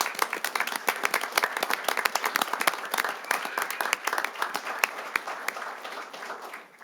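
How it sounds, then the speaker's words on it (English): A round of applause at a city council meeting, a moderately sized group clapping with distinct individual claps audible, steady before tapering off at the end. "One more big round of applause for everyone."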